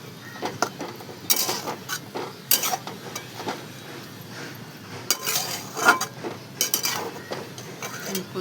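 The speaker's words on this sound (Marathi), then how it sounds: "कूट टाकल्याच्या नंतर छान असं मस्त मिक्स करून घेऊ आपण भाजी" Fenugreek greens with peanut powder are stirred in a pan, giving repeated scraping and clinking of a metal spoon against the pan in an uneven rhythm, with a faint sizzle underneath.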